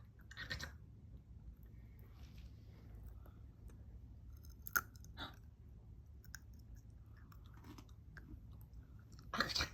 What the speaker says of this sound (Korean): 아몬드 먹으면 무슨 소리가 날까, 입에서?